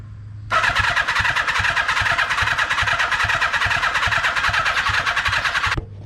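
A 1982 Kawasaki KZ550 motorcycle, left sitting for ten years, fires up and runs steadily at close range with a rapid, even engine pulse that holds for about five seconds before cutting off abruptly.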